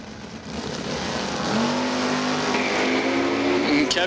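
Drag race cars launch at Numidia Dragway during an ET finals event, one a Demon, with a loud engine roar rising in pitch as they accelerate away, and a commentator talking over it.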